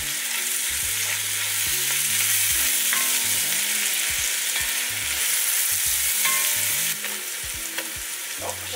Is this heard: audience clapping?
no